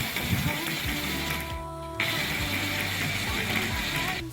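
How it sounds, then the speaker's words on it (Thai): An electric blender grinds a Thai paste of lemongrass, kaffir lime leaves, garlic, shallots, salt and shrimp paste, whirring with a mechanical grinding tone that briefly dips about halfway before resuming steadily. "แล้วเชฟก็เริ่มปั่นได้เลยครับ"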